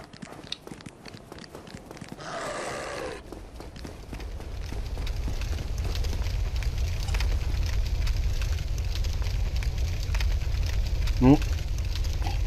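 Fire burning in the video game Dark Souls gives a steady, loud low roar with scattered crackles, and a brighter burst of sound rises briefly near the start.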